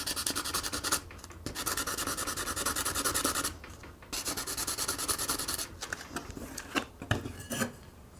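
Sandpaper rubbed back and forth across a mirrored pinball backglass, loud rasping strokes in long bursts separated by brief pauses, with no talking.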